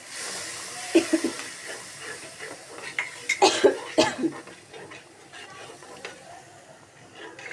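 Spices sizzle in a hot pan while being cooked down for a Bengali tengra fish dish, a utensil scraping and stirring in irregular bursts, with a cough partway through.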